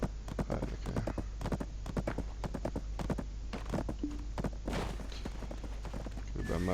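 Horses clop along in a video game, quick rhythmic hoofbeats close by under a steady background hum, with a voice talking briefly.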